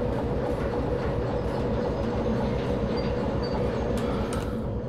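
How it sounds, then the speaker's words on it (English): Train in the game Derail Valley rolling toward a junction, a loud continuous low rumble of wheels and carriage with steady rattle and a faint high squeal, no talk. "We need to wait until the train rolls into this junction."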